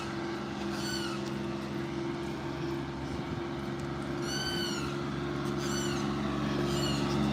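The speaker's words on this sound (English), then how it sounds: "That bird is so vocal." Loud bird calls repeat outdoors at sunrise at Disney's Old Key West Resort: several rising, chirping bursts come in clusters over a steady low hum.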